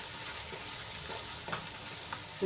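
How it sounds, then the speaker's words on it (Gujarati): Spices sauté in a pan, a soft steady sizzle with occasional gentle stirring scrapes, fairly quiet and close, with no one speaking. "એક મિનિટ માટે આપણે મસાલાને સાંતળી લઈશું"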